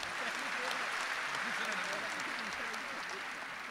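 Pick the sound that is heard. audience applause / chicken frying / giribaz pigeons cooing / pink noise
audience applause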